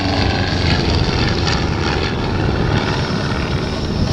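The small RV-8A propeller plane Wild Blue flies at the Tavares Planes, Trains, and Barbecue Air Show, its engine a loud, steady droning roar that holds without a break and carries no voices.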